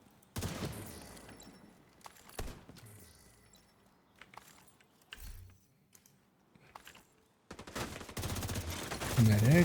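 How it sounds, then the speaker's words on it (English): Bursts of gunfire in a first-person shooter video game, with sharp shots scattered across the clip and a heavier, sustained volley near the end, loud and close. "You guys all stop shooting me."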